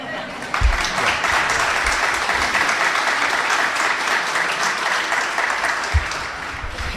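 Sustained applause from an audience at a talk on Lakewood's downtown redevelopment, steady dense clapping throughout with a few louder bursts.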